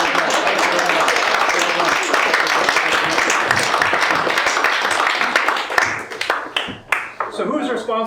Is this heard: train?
no